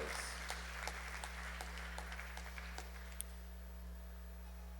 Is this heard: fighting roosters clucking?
no